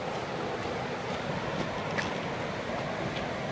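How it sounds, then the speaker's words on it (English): Floodwater pours out of a swollen river on a wet day, a steady broad rushing wash with no break and no voices. "Water's pouring out everywhere"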